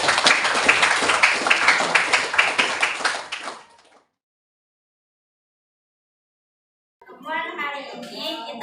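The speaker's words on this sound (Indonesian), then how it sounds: "Tepuk tangan dulu." Students clap together in a classroom during an economics lesson in Makassar, a rapid burst lasting a few seconds before cutting to silence, then a teacher's voice begins speaking.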